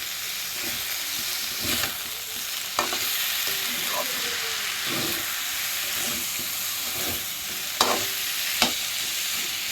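Pumpkin stir-fried with banana flower in a hot pan, a steady hissing sizzle under intermittent scrapes and knocks of a spatula, close and without speech.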